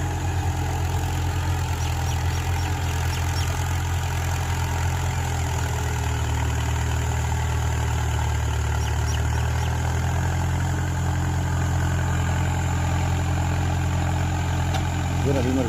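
A 50 hp tractor runs a heavy 497 kg high-clearance 42-blade SarvaShakthi rotavator. A steady, loud low engine drone continues throughout, with a voice talking over it.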